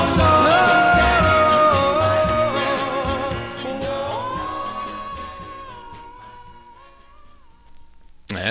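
Northern Soul record played from a 45 single: a loud, full band track with sustained vocal lines that fades toward the end before a sharp click.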